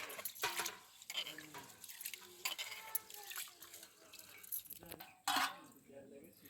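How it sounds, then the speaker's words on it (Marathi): Water sloshes and splashes in a metal pot as rice is rinsed by hand, with clinks and a louder splash near the end. "आता मी तांदूळ धुवून घेते"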